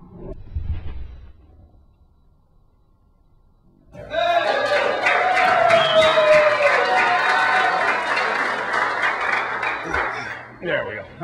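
A live audience claps and cheers after a bowling ball trick. A few quiet seconds with a brief voice come first, then a loud burst of sustained applause lasts about seven seconds before tapering.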